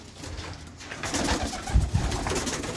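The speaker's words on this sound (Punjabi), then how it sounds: "ਉਹ ਵੱਡਾ ਕਬੂਤਰ ਉਹ ਬੈਠਾ" Punjabi Malwai pigeons coo in a loft in England, soft repeated throaty calls rising over a steady background hum, with a couple of louder coos near the end and no speech.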